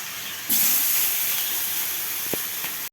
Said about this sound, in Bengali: তেলটা খুব গরম হয়ে গেছে, আঁচটা কমিয়ে দিলাম। দিয়ে দিচ্ছি কুচিয়ে রাখা পেঁয়াজ।